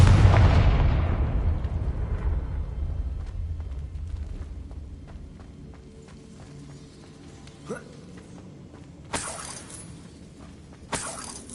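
A Confringo blasting spell in Hogwarts Legacy sets off a loud, close explosion whose rumble and crackling debris fade over several seconds, followed later by a few sharper bursts.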